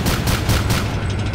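Rapid gunfire in Arma 2 rattles out as a dense burst of shots, a quick run of loud repeated reports close together that thins out toward the end.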